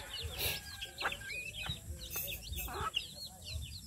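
Chickens cluck and squawk repeatedly at close range while scattered feed is pecked, several birds calling in overlapping bursts over a soft background hum.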